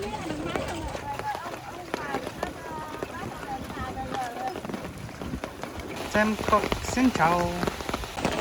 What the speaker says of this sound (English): It is raining, that's why I have an umbrella.